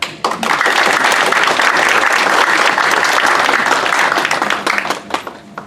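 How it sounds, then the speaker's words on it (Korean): Loud, sustained applause from an audience at a reunification forum, many hands clapping together for several seconds before tapering off near the end. "저희 윤흥동 회장님께 다시 한번 큰 박수 부탁드리겠습니다"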